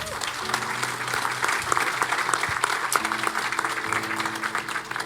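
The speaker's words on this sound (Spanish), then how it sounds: "¿Podemos darle un aplauso?" A church congregation claps for a guest brought forward during a Spanish-language service, dense steady applause with faint music or voices lingering underneath.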